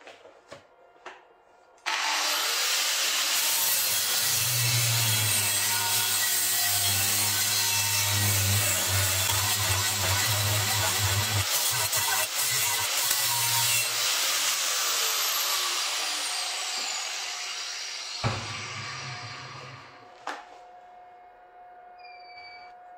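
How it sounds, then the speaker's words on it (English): Slag and burrs are ground off the cut edge of a metal piece with a power tool: a steady, loud abrasive rasp with a low hum runs about sixteen seconds, then fades, stops and briefly restarts. "in order to get the slag off the sides, you make sure you've got the burrs off"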